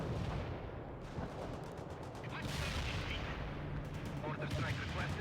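Battle sounds from the strategy game World in Conflict, dense rolling gunfire and distant artillery booms under continuous crackle, with radio-style voices and shouted orders mixed in.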